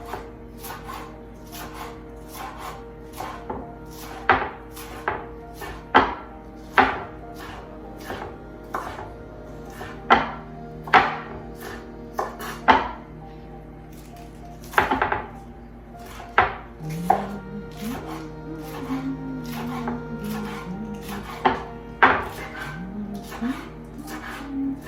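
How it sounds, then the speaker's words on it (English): Rapid knife chopping of scallions on a cutting board, sharp repeated taps in an irregular rhythm, fairly close and clear, with some talking in between. "I would like to have some scallions finely chopped as well."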